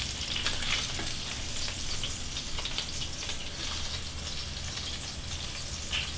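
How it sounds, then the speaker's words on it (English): Meatballs sear in olive oil in a pan over medium heat, a steady dense sizzle and crackle filling the whole stretch, close and unbroken without talk. "Remember, you just wanna sear them for color and texture."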